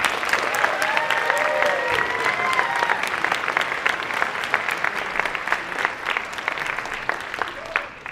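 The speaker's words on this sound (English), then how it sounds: "Let us give them a round of applause" A school audience at a senior debate event claps for the debaters in dense, sustained applause that holds steady for several seconds before thinning toward the end. A few voices murmur faintly beneath it.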